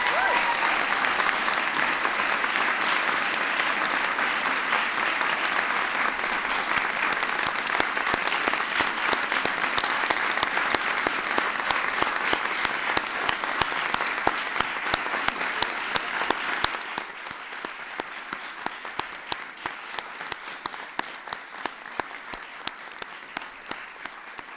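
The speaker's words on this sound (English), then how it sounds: "Give her a big round of applause." A large audience at a presidential speech on the Affordable Care Act breaks into sustained, loud applause that carries on for about twenty-five seconds, thinning slightly toward the end into scattered claps.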